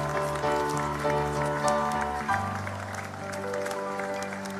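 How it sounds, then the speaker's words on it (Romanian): A concert audience in Chișinău applauds after a performance, a dense steady clatter of clapping lasting throughout, with sustained music tones underneath and a brief shout. "Aplauze, Chișinău!"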